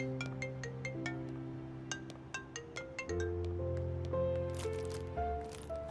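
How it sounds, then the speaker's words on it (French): A phone ringtone rings with a repeating melodic pattern of bright electronic tones, moderately loud and close, with faint background noise and no speech over it. "Tu ne réponds pas au téléphone?"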